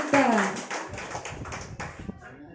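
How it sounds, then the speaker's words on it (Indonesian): Applause for the chairman at a Bawaslu Kalbar 2020 video competition award ceremony: a burst of hand clapping from a crowd, fairly close, with a voice talking over the start before the clapping thins out. "Tepuk tangan untuk Bapak Ketua kita"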